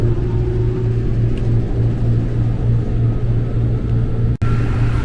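Inside a KRL commuter electric train on the Cikarang line, a steady low rumble and a motor hum run continuously as it gets under way, and the sound cuts out briefly near the end.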